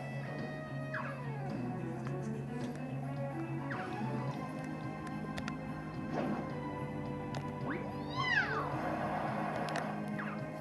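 A cat meows in Persona 5 Strikers, a few short rising cries over steady game music and ambience, moderately loud, with no speech.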